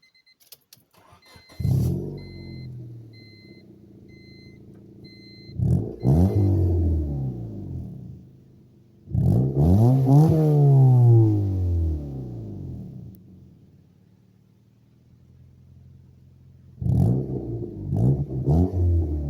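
A 1998 Honda Civic sedan with a newly installed muffler starts up and revs in a few distinct bursts, each swelling and falling back to a quiet idle, heard close with no talking.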